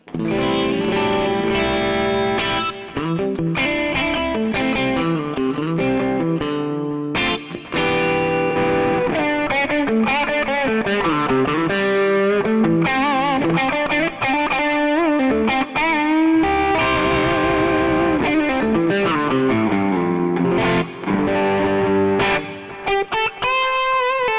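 An electric guitar through a Mooer GE-300 Lite sampled amp plays a continuous distorted melodic line with echoing delay repeats, a wash of reverb and compression, loud and steady throughout.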